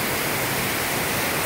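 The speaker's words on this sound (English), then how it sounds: "Waterfall. Right in the middle of this casino." Steady, dense rushing water from an indoor waterfall in the middle of a Las Vegas casino, a continuous broadband wash with no voices over it.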